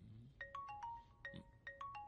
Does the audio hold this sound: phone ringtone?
yes